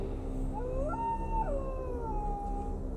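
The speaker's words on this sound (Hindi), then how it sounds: "धीरे धीरे कुत्तों के रोने की आवाजें और भी तेज होती गई" Dogs howl at night in long, rising and falling wails that overlap, set against a low steady rumble of background ambience, with no speech.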